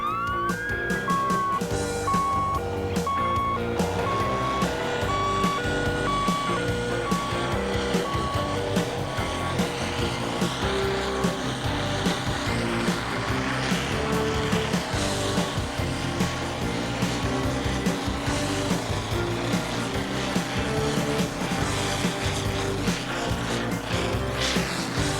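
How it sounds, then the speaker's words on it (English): Airport fire trucks rush onto the airfield, a steady loud siren wailing throughout with engine rumble beneath, continuous and close. "if a plane catches fire, these trucks rush onto the field to put out the fire"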